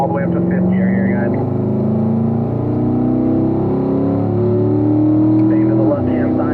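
A race car accelerates on a track, its engine note climbing steadily and loudly through the gears toward fifth. Someone talks over the continuous roar the whole time.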